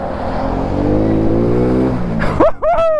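A motorcycle engine revving on a muddy track, its pitch climbing steadily and loudly, then breaking into a few quick, sharp throttle blips near the end, close up and with no talking.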